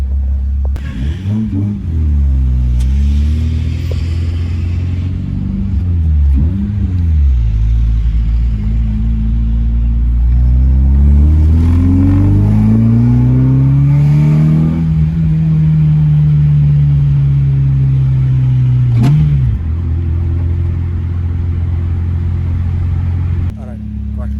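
Car engine revving on a test drive around a track, loud and continuous for the whole stretch, with the pitch climbing and falling across several rev swells and someone talking over it.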